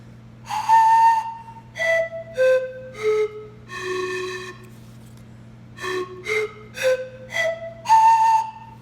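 A breathy bamboo pan flute plays a slow sequence of separate notes, stepping up and down in pitch, with a low steady hum underneath.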